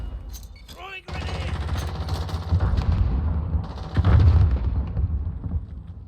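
A grenade explosion and rapid gunfire in Call of Duty Warzone, bursts of shots followed by heavy booms over a rumbling battlefield, with players talking over the action.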